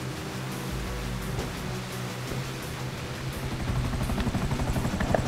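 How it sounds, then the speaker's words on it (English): A helicopter in Grand Theft Auto V chases close behind, its steady rotor roar forming a dense, washing drone that grows slightly louder and more pulsing toward the end, with no talk. "Chopper, right behind us."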